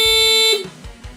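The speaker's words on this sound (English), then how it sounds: "It's a motorcycle 115 decibel horn." A 115-decibel motorcycle horn fitted to a homemade go-kart sounds one loud, sustained buzzing tone for about half a second, then cuts off, leaving quiet low thumps behind.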